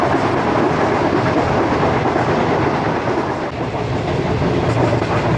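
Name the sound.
train moving, slowing down approaching a railway station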